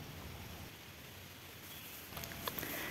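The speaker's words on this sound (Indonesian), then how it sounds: "kita diteteskan air hujan yang sangat manja" Light rain falls during an outdoor fishing outing, a steady soft patter across the whole stretch that grows slightly louder toward the end, with no voices.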